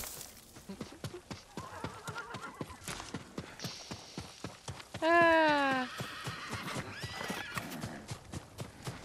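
A horse in the samurai action game Ghost of Tsushima gallops with clip-clopping hooves, then lets out one loud, shrill neigh partway through, while the footfalls keep going and a voice talks under the sound.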